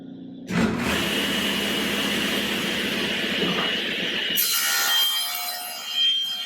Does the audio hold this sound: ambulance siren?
no